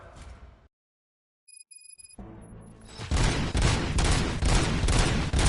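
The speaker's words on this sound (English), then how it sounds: "Gunshots? What's going on?" Movie gunfire in a RoboCop scene: after a short silence, a brief tone sounds, then a loud, sustained burst of rapid shots and booms builds up and keeps going to the end.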